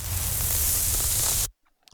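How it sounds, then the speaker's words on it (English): Burning sound effect in a video game while the player stands in lava: a steady hissing, crackling noise like static that cuts off abruptly, leaving near silence. "Do I get a nice burning sound when I'm inside the lava?"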